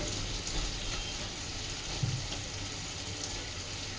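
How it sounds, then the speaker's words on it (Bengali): Mustard oil poured into a cooking pan while making matar paneer, giving a steady, fairly loud wash of hiss and sizzle that runs evenly throughout with no voices. "এর মধ্যে এখন সর্ষের তেল দিয়ে দিচ্ছি"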